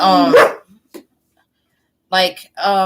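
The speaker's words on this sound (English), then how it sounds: "Oh my God, this dog." A dog gives a few loud, close barks in short clusters, separated by a long silent gap.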